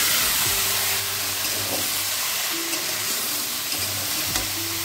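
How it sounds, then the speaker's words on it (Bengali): Chopped mankochu taro hits hot oil tempered with a dried red chilli, setting off a loud, continuous hissing sizzle close by, with a few faint clinks. "এবার দিয়ে দেবো কেটে রাখা কচু।"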